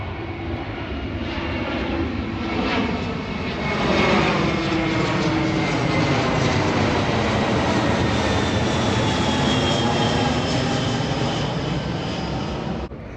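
A fixed-wing airplane passes overhead near DFW International Airport, a loud, steady engine roar that swells around the middle and stays broad and sustained for the whole stretch, with no talking.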